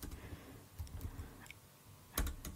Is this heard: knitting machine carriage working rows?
no